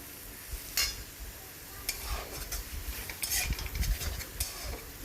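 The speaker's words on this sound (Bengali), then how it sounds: "দিয়ে এবার ভালো করে মশলাটা কষিয়ে নেব" Spice paste with Kashmiri chili powder, for a bhola fish oil-jhal curry, frying and being stirred in a pan: steady sizzle under repeated scraping strokes of a spoon, close and fairly loud.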